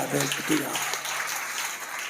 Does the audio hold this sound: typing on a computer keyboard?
no